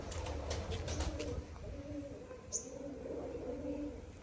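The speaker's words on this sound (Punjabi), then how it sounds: "ਕਬੂਤਰ ਪੂਰੀ ਮਸਤੀ ਚ ਆਉਦੇ ਆ ਦੇਖ ਸੁਣਿਓ" Pigeons cooing softly in low, repeated throaty calls against quiet outdoor ambience, with a brief chirp partway through.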